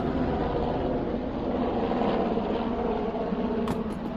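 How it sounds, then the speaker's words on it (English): A Black Hawk helicopter flying overhead makes a steady, loud rumbling drone that fills the clip, a broad continuous roar with a few faint clicks near the end. "Don't mind the helicopter, it's just a Black Hawk."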